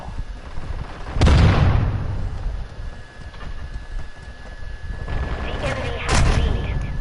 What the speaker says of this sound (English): the shotgun bombardment here with Battle Rage is pretty insane